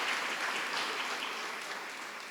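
Distant, fairly quiet applause rolls through a school district awards ceremony honoring elementary Teachers of the Year, steady and gradually easing off.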